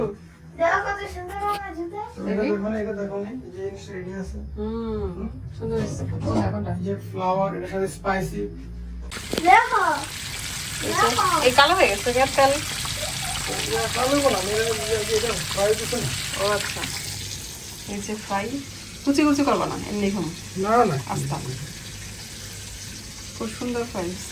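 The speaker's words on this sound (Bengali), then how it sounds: "এখন তেল গরম হলে পরে চিকেন দিয়ে যাও" Chicken pieces frying in hot oil for a homemade Karim's-style chicken dinner, a bubbling sizzle that jumps up as the meat goes in, heard close beneath ongoing conversation.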